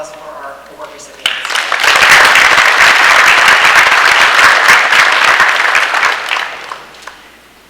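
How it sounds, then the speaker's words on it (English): Audience applause for student award recipients at a journalism honors ceremony, a loud, full burst of dense clapping that swells in, holds steady for several seconds, then tapers off. "let's have another round of applause for our award recipients"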